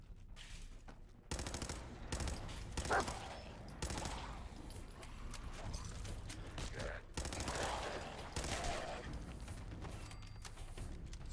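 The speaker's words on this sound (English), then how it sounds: "And of course I miss it completely when I try shooting at him." Gunfire in the video game Fallout 4, sharp bursts of shots in several clusters over a quiet background, near and punchy.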